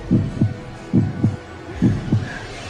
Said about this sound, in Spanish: ¿Cómo es que no escuchan esos estruendosos latidos?